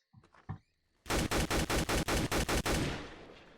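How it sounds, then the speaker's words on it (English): M4 assault rifle in the Roblox game Oretary firing a quick burst of about nine rapid shots after a few faint clicks, loud and close, ending in a short decaying tail. "So you hear the M4 and then the AK."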